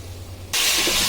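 Vegetables with onion, tomato and coriander frying in a pan for veg pulao, a near, loud, steady sizzle that bursts in abruptly after a quieter low hum and holds through to the end.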